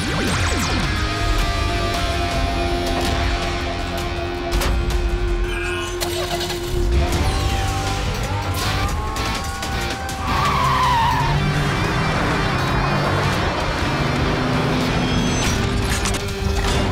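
Miniforce force cars from the cartoon race along with roaring engines and long screeching tire skids, loud and continuous over busy action noise.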